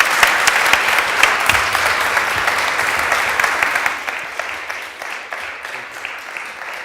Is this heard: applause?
yes